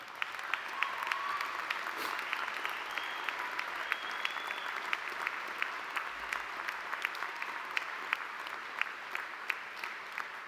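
Sustained applause from a large commencement audience of graduates standing to clap for the families and people around them, a dense steady wash of many hands with occasional sharper claps near the front.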